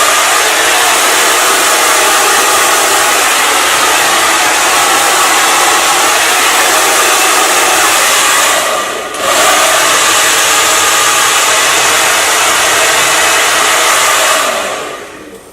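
A 1400-1600 watt hair dryer blows on wet hair with a loud, steady roar close by. It dips briefly midway, then keeps running until it cuts off near the end.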